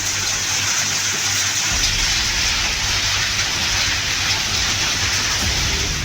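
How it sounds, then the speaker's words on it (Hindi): Heavy monsoon rain pouring down in Himachal Pradesh, a loud, dense, steady hiss of rainfall with a low rumble underneath, unbroken for the whole stretch. "झमाझम बारिश हो रही है।"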